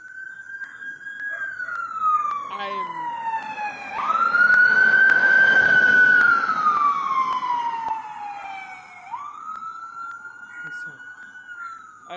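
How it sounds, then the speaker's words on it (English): An ambulance siren wails through a slow rising and falling cycle, swelling louder as the vehicle draws close and passes, then easing off as it moves away. "Look as the ambulance passes."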